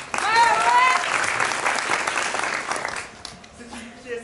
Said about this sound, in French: Kelsey, lève-toi, qu'on t'applaudisse comme il se doit.